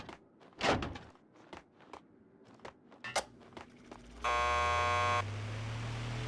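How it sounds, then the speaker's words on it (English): A door buzzer in the video game Max Payne 2 sounds as a loud steady electric buzz lasting about a second, preceded by scattered thuds and footsteps and followed by a low rising hum. "Just press the buzzer by the door."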